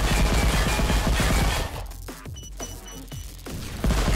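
Objects being destroyed in the Unreal Engine 4 game AKOV Space Bears: a dense, loud burst of crashing impacts, then a run of separate sharp smashes and thuds spaced through the rest, with no talking.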